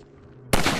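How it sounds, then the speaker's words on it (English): A single sharp rifle shot in the video game Half-Life 2 Episode 1, fired at a latch, bursting loud and close after a quiet low hum. "Let me shoot out the latch."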